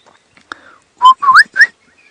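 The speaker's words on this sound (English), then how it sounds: "in the background you can hear one of my favourite bird calls, that of the southern boo-boo" A loud, clear southern boubou call in rising whistled phrases, three bright notes close together after a few faint sounds, with no voices, on an early-morning safari drive.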